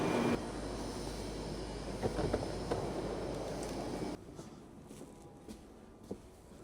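An S-Bahn commuter train pulls into a station on the route via Heidelberg toward Mannheim, a loud steady rumble of wheels and motors that drops off sharply as it slows, leaving faint squeaks and clunks.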